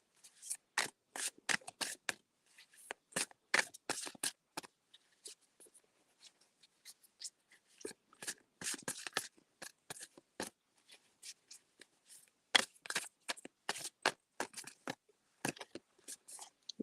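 Starseed Oracle cards are shuffled close by in quick, soft riffling bursts that stop and start irregularly, separated by short quiet gaps, with no talking over them.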